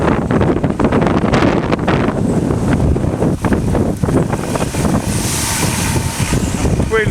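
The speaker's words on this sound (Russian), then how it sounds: "А вот это ураган." A hurricane-force dust storm roars without a break, loud wind buffeting the microphone with gusty surges and rumbling low noise throughout.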